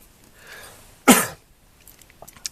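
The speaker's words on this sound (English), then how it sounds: "Oh, it's going to be a coughing night." A single sharp cough bursts out nearby in an otherwise quiet room, followed by faint scattered clicks and rustles.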